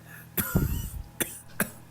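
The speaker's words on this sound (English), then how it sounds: "was seized by a violent, coughing fit" Several harsh coughs in quick succession, close and loud, with a brief throat-clearing rasp between bursts.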